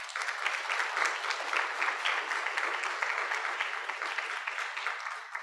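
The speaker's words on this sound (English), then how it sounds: "So give them a round of applause." An audience at a family conference applauds steadily, dense clapping that holds at an even level throughout before tapering slightly at the end.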